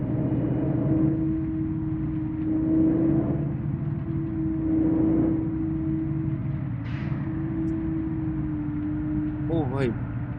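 A bus engine in Bus Simulator Indonesia drones at a steady low hum, swelling and easing a few times as it pulls, with a brief higher chirp near the end.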